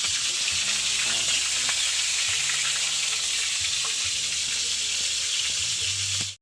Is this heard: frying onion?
yes